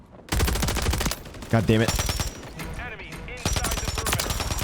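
Sniper rifle fire from the AMR9 in Modern Warfare 3, heard as several sharp, loud shots among other gunfire and game sounds, with a player's voice cursing over the action.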